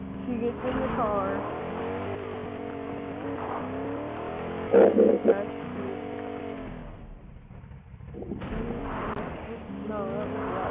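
A car in the Fortnite video game drives and revs with a steady engine drone that rises and falls in pitch, under a player talking, with a brief louder burst midway.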